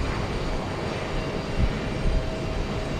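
A commuter airliner taking off from runway 15 left at Houston Intercontinental, its engines giving a loud, steady broadband roar that holds constant throughout, with no voices.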